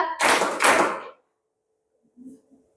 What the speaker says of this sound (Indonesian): Tepuk 1, tepuk ganda,